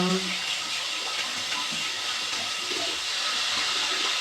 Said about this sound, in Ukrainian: потім нам потрібно вмитися. Ми вмиваємось.